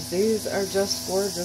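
A steady, high-pitched chorus of crickets in a yard chirps continuously in the background while a person speaks close by over it.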